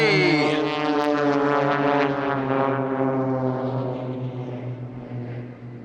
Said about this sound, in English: Now Blade 4 is going to be upside down at the back as they fly along the Eastbourne seafront.